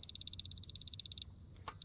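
A laser level receiver on a grade pole, used to level a workshop foundation, gives a fast run of short identical high beeps that then merges into a single continuous tone, clear and close over a faint low background.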